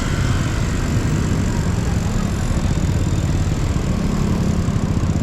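A bus engine idles on a Makati city street, a steady, close low rumble that holds level throughout with no talking over it.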